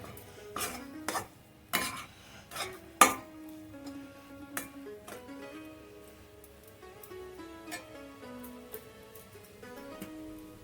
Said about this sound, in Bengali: কিছু কাজু আর কিশমিশ আমি এইভাবে কুচিয়ে রেখেছি আমি সেটা দেবো দিয়ে আবার একটু নাড়িয়ে নেবো